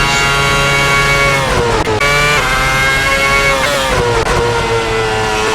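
A 2009 Formula One car in a racing simulator, its engine screaming at high revs close and loud, climbing in pitch through gears with brief dips at the upshifts, continuous throughout.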